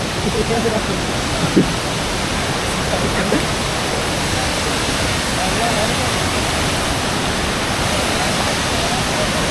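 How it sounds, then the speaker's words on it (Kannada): A waterfall at Bangarakusuma in Uttara Kannada, a loud, steady broadband rush of falling water filling the scene, with a voice talking faintly beneath it. "ಫಾಲ್ಸ್ ಹತ್ರ ಬಂದು ನಾವು ತಲುಪಿದ್ದೀವಿ"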